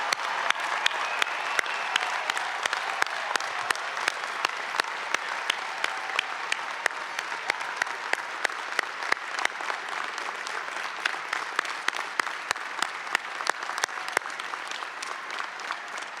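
An audience at a university commencement ceremony applauds steadily, a dense wash of many hands clapping that carries on evenly for the whole stretch and tapers slightly near the end.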